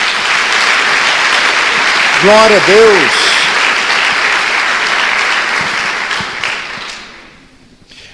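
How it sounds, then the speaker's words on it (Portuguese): Loud, sustained applause from a church congregation, with a voice calling out briefly over the clapping before it fades away near the end. "Dê uma salva de palmas a Jesus."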